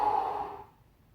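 A single breath exhaled during a Pilates side stretch, audible at first and fading to quiet within about a second.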